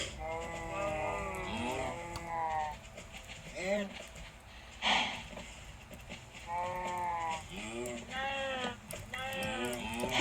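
Sheep bleat in several wavering calls spread across the stretch, close and fairly loud, broken by short pauses and a few thumps.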